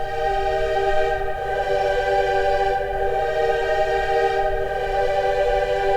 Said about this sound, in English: We also have the female choir sustains.